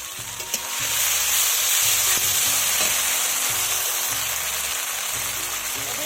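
Ginger and garlic pastes with cumin, garam masala and black pepper pastes fry loudly in a pan. A steady hissing sizzle runs throughout, with a bright splash at the start and faint stirring scrapes.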